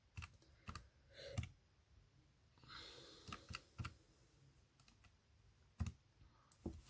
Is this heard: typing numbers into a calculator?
yes